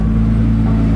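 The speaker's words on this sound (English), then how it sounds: "Dude, your car is so loud." A loud 1,000 HP Nissan GT-R idles with turbos spooling, giving a steady, deep droning rumble with a hollow vacuum-like hiss, close and continuous with no talk.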